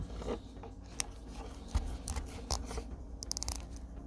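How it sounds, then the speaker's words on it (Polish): Several sharp plastic clicks stand out against a low steady hum, a solar panel cable connector snapping into place, with faint handling noise between them. "a tu będzie charakterystyczny też klik"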